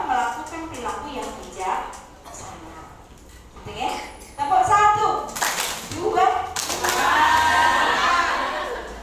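Children clapping in unison to a counted chant during a parenting talk, with scattered claps, shouting and excited voices building into a loud burst of group clapping and cheering, mixed with an adult talking over them.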